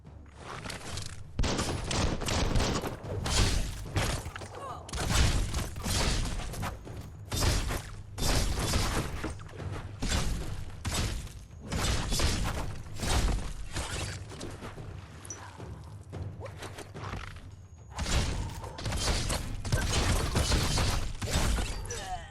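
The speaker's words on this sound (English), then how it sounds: "That's a bomb lobber." A bomb lobber firing in the video game Biomutant: a long run of loud, sharp bursts and crashes in irregular clusters, with brief gaps between volleys.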